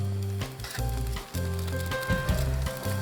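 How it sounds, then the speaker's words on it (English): Shrimp sizzling on a hot grill while being flipped, a loud crackling hiss broken by short scraping and clattering bursts of the spatula, close and continuous. "the next step is to flip the shrimp over"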